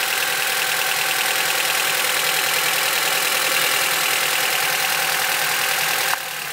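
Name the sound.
Acura TSX engine idling, rpm dipping with ignition coil unplugged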